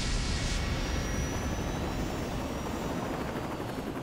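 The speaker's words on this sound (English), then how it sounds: "I have made my decision to pick this helicopter." A helicopter in Saints Row 2 on PC gives a steady, loud rotor and engine drone that fills the whole moment without pause, with no voices over it.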